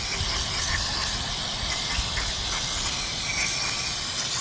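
Carburetor cleaner sprayed from an aerosol can onto a BMW oil cooler filter adapter, a steady loud continuous hiss close by with no talking.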